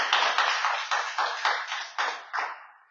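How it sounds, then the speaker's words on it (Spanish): A church congregation clapping for God after a prayer: a short, sparse run of claps arriving in distinct bursts, fairly near, tapering away at the end. "Damos un aplauso a Dios."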